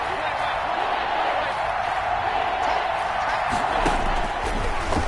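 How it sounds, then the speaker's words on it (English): The Arrowhead Stadium crowd at a football game facing third and goal against the Chiefs makes a loud, sustained roar that holds steady throughout. "this is where the Arrowhead crowd can make it very tough"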